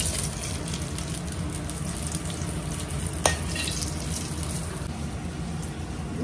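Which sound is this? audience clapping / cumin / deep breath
cumin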